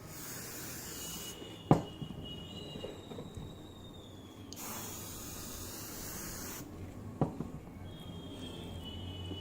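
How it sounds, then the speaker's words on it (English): Varnish sprayed onto a jute sheet mixed-media artwork, heard as a steady hiss with two brief sharp clicks of the spray can, fairly faint and alone without talk. "this is the layer of varnish that I am applying"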